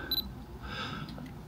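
A camera's two-second self-timer sounds two short, bright electronic beeps in quick succession near the start, followed by a soft mechanical whir over low background hum, with no talk.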